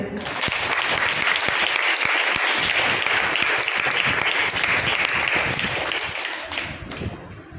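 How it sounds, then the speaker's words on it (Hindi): A congregation at a Hindi-language church service bursts into sustained, loud applause that fills the hall evenly for several seconds before tapering off, with a voice faintly under it. "थोड़ा ताली बजाइए।"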